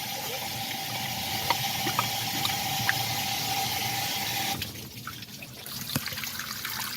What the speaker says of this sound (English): show you what's coming out of the water jackets when I put some pressure to this